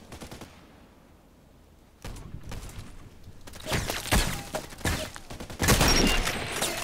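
Enemy gunfire in a shooting video game, heard as loud bursts of rapid shots that start faint, then come in heavy clustered volleys later on, fairly close and with no talk over them.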